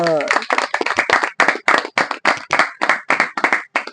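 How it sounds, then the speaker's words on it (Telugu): A church congregation claps together in a loud, quick rhythm of sharp bursts close by, with a voice heard briefly at the start. "గట్టిగా చప్పట్లు కొడదామా?"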